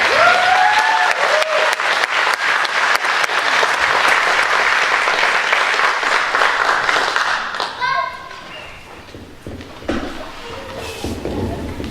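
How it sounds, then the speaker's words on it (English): Audience applause at a dessert concert, loud sustained clapping from a full room that fades after about eight seconds into scattered claps and a voice speaking. "Everyone, give me a round of applause for Elizabeth."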